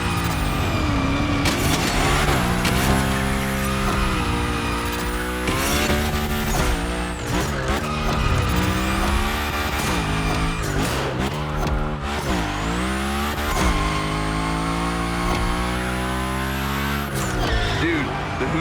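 A Hoonigan car drifting in a Gymkhana event in The Crew Motorfest gives off repeated loud tire squeals, with sweeping pitch changes over a constant revving engine roar.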